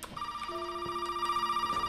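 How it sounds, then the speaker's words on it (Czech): A telephone rings inside the horror game Resident Evil 7, a steady electronic tone holding alone and fairly close against a quiet background. "Telefon."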